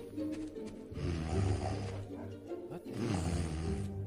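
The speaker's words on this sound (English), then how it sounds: "You guys hear that snoring too?" A character snores in the Fable video game, slow, deep rasping breaths rising and falling in a steady rhythm, fairly quiet and close, with no talk over it.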